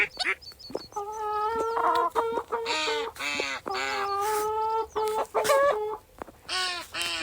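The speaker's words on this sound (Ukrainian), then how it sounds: "наступний етап погодувати моїх маленьких каченят і курчат" High-pitched peeping and chirping of ducklings and chicks, many overlapping calls in quick bursts, close and fairly loud with little else around.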